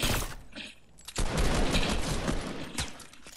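Sustained gunfire in the video game Fortnite, a dense, loud volley rattling almost continuously after a brief lull, with sharp shots standing out near the end.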